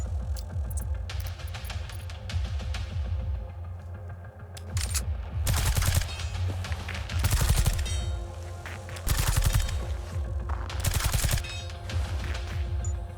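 Gunfire and explosions from grenades in the tactical game Reverse Collapse, a dense run of bursts building into several loud, broad blasts around the middle and end, with faint game sounds between.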